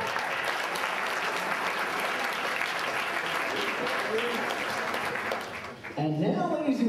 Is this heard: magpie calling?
no